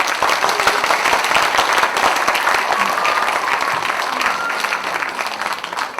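A crowd at a Justice Party political rally in Incheon applauds with loud, sustained, dense clapping that holds steady for the whole stretch and tapers only slightly at the end, with faint voices beneath.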